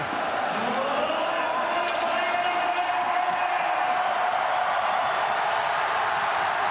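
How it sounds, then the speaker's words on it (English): A packed Toronto home crowd roars through the final minute of Game 7 of the 2018 AHL Calder Cup Finals against Texas, a dense, continuous wall of cheering that holds steady and loud from start to finish. "Listen to this crowd as we take you in to the last minute of play"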